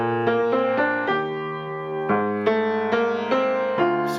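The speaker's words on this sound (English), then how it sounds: "say it was all melodic minor, it would sound like this." A melodic line of sustained notes played in melodic minor, moving steadily step by step with clear, evenly spaced note changes and no voices.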